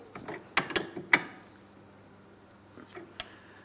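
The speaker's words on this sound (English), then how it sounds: "I'm using my wrench to make sure it's nice and tight" A hand wrench tightens a jam nut against the outer tie rod end of a 2004-2008 Pontiac Grand Prix, giving a few sharp metallic clicks and clanks close by, then a pause and a final faint click.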